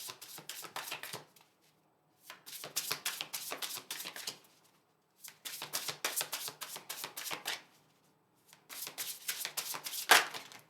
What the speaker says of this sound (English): do one more quick shuffle here